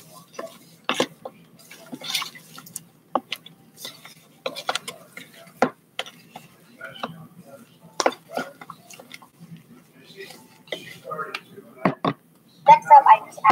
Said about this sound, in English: I just added a bunch of white glue into the container, and then I added in some shaving cream, some shaving cream, and then I'm mixing it all together